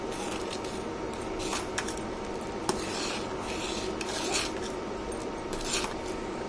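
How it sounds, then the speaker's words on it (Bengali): A spoon scraping and stirring sugar into a cup of tea, continuous gritty rubbing with a few sharp clinks against the cup, steady and close. "এখন আমি পরিমাণ মতো চিনিটা দিয়ে দিচ্ছি।"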